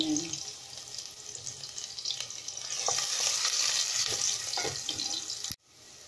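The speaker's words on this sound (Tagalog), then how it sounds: "Gisa muna natin yung bawang." Garlic sautéing in a pan while being stirred, a steady close sizzle with scraping stirs that swells slightly before cutting off abruptly near the end.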